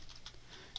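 Quick, faint clicks of typing on a computer keyboard while entering a name into a PowerShell tool, a few soft keystrokes in a brief burst.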